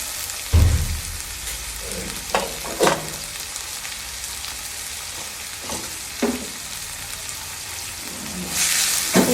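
Spinach (palak) fries in a pan for a palak tomato curry, a steady soft sizzle broken by a few sharp spoon scrapes and knocks spaced across the stretch, close and moderately loud with no talking.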